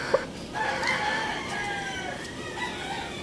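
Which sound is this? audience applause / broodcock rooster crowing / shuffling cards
broodcock rooster crowing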